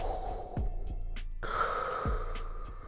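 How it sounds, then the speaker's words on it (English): Darth Vader's labored mechanical breathing comes in a slow, rhythmic cycle of harsh, hissing inhales and exhales, up close with nothing else around it. "Cue some labored mechanical breathing noises,"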